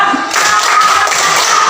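A group in a classroom claps hands in a set pattern as an ice breaker; a sharp onset of clapping is followed by dense, continuous patting and tapping of hands at close range.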